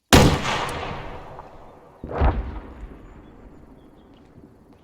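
Two heavy weapon blasts boom during special forces detachment training outdoors, a sharp loud report followed by a long rumbling decay, then a second blast two seconds later that trails off into distant echo.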